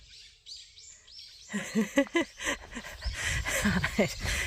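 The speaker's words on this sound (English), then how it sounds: "Noisy birds." Birds chirp in quick, high calls, joined by fuller, louder calls over a steady outdoor background along a trail through a small town in South Korea.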